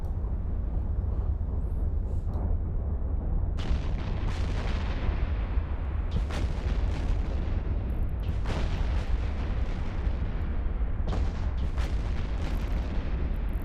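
Tornado ships fire artillery in the space game EVE Online: heavy booming volleys hit repeatedly over a constant low rumble, each blast sharp and loud, arriving in irregular bursts.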